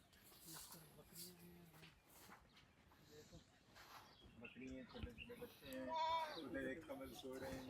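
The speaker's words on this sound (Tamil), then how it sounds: "இந்த சைடில் பாருங்க ஆட்டுக்குட்டி இருக்கு" A lamb bleating on a farm in Qatar, thin wavering cries heard softly at moderate distance beneath steady conversation and outdoor background noise.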